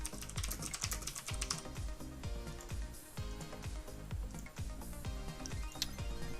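Steady typing on a computer keyboard: a fast run of close, crisp key clicks continuing without pause, with no one speaking.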